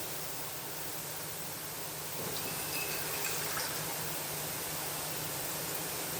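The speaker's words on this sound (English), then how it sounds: "A little more water" A steady, soft stream of water poured into tamarind paste for a bottle gourd dish, a continuous close hiss with no talk.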